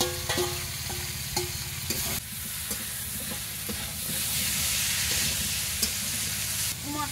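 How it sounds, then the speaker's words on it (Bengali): Spices frying in a pan with pumpkin and potato added for a village-style curry: a continuous loud sizzle with repeated sharp scrapes and clinks of stirring, and no talk. "এবারে কুমড়ো আর আলুটা আমি এর সঙ্গে দিয়ে আর একটু ভেজে নেব।"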